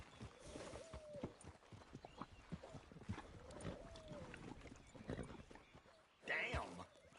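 Horse hooves clip-clop in a steady walking rhythm while riding in Red Dead Redemption 2, quiet and close, with a short neigh near the end.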